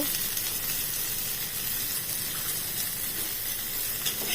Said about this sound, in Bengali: একটা পেঁয়াজের অর্ধেক পেঁয়াজ আমি ভেজে নেব